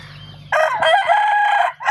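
A Thai fighting rooster crows loudly and close, one long harsh cock-a-doodle-doo with a second call starting at the end, over faint background hum.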